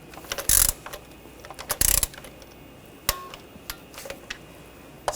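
A torque wrench tightens valve cover bolts on a 2014-2020 Nissan Rogue 2.5L in sequence, with a few sharp ratcheting bursts and separate metallic clicks spread between quieter handling noises.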